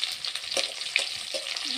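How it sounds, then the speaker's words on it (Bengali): Sliced onions sizzling in hot oil with Bengali five-spice, a crackling, spitting fry with scattered pops and a soft scrape of stirring, close and lively. "এবার দিয়ে দিচ্ছি পেঁয়াজ"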